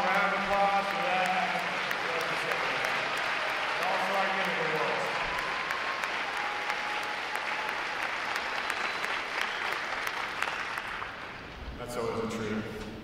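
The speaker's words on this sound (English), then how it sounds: "how about a nice strong round of applause for that?" Crowd at a Navy recruit graduation ceremony applauding, a broad, sustained wash of clapping from a large audience that holds steady for many seconds, with faint speech over it at the start and as it fades near the end.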